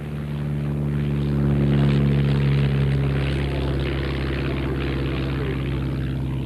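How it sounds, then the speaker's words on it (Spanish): A Stampe biplane with an old four-cylinder Renault engine flies close by, its propeller and exhaust making a loud, sustained, throbbing drone that swells slightly in the middle and stays strong throughout, with no voices. "atronando el aire sin el menor recato los escapes de los 4 cilindros de su viejo motor Renault"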